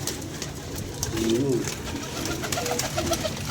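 Soft pigeon coos repeat a few times beneath steady outdoor background noise and indistinct voices.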